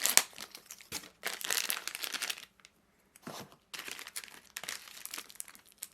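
Crinkly plastic and cardboard packaging of an EVGA RTX 3080 FTW3 graphics card box being opened, loud close bursts of crinkling and rustling broken by brief pauses.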